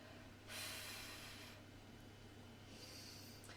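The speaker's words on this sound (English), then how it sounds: "This is breathing." A forceful exhale during a breathing exercise, a close whooshing breath out lasting about a second, followed later by a second softer breath, over a steady low hum.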